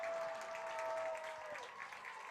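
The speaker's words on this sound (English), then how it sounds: "Round of applause here." Soccer crowd at a Tallahassee club match applauding a goalkeeper's save, a steady distant wash of clapping and crowd noise with a brief whistle-like tone over it.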